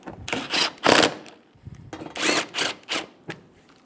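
Short bursts from a power tool driving screws snug on a bumper bracket of a 2005-2015 Toyota Tacoma, several quick whirring pulses of uneven length with brief pauses between, close and moderately loud.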